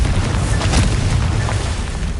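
Confringo, the explosion spell in Hogwarts Legacy, lets off a loud, deep, rumbling blast that fills the whole short stretch with a heavy roar, with no voice over it.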